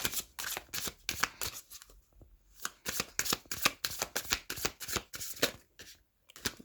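A deck of tarot cards is shuffled by hand in quick, rhythmic riffles and slaps, close and crisp, with a brief pause partway through before the shuffling resumes.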